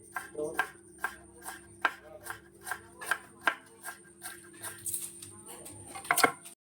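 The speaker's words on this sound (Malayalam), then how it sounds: "ഇഞ്ചി ഒന്ന് ജൂലിയനായിട്ട് കട്ട് ചെയ്യാവേ." Knife chopping ginger into thin julienne strips on a board for a Kerala-style mappas, giving a steady series of crisp cuts at a close, even rhythm with a faint hum behind.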